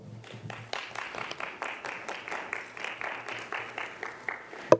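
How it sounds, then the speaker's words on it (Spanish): A smaller crowd at a rights-campaign event claps in a loose, fairly quiet patter with distinct individual hand strikes, ending on one sharp louder clap. "Damos la bienvenida y un fuerte aplauso, por favor."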